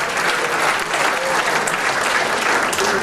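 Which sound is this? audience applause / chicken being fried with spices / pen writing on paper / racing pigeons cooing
audience applause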